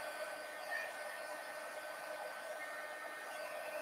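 A heat gun blows steadily and continuously to dry wet acrylic paint on sketchbook pages, a constant airy whoosh with no break, heard alone.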